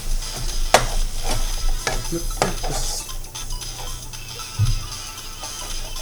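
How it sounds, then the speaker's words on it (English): Ground beef sizzles and browns in a frying pan, a steady fry with occasional scrapes and clicks of a utensil stirring against the pan, close up and without talk. "Ground beef browns very, very quickly."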